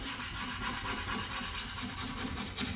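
Hardened glue is scrubbed off a glossy kitchen surface with a steady, close, harsh rubbing that runs continuously in quick back-and-forth strokes, with no talk.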